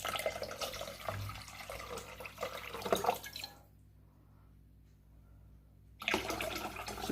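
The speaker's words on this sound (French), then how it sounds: "je vais commencer à verser l'eau tout en surveillant" Water poured into a bottle set on a kitchen scale, a steady close splashing trickle that stops for a couple of seconds of near silence, then resumes.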